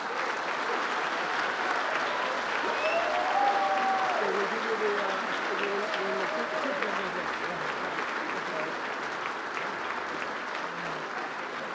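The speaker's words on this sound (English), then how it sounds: "Please join me once more for a round of applause to all our awardees tonight." A large audience applauds awardees at an awards ceremony, a steady, dense, even wash of clapping for the whole stretch with a faint voice briefly audible underneath.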